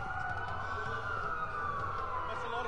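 Police sirens in the video game Watch Dogs wail steadily in the distance, a continuous rising and falling tone over low rumbling background noise with faint voices.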